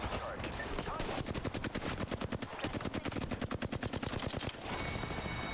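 Long bursts of rapid, evenly spaced video game gunfire, loud and close, broken by a brief pause near the start and settling into a quieter game background at the end.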